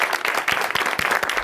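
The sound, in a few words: studio audience applause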